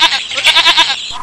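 Sheep bleating in an animated children's moral tale, a quavering, pulsing bleat that wavers through several beats, loud and close with no talk over it.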